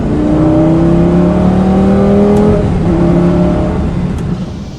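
A first-generation Lamborghini Gallardo Coupe engine revs loudly and steadily up close, rising harmonic tones climbing and sustaining, then easing slightly near the end.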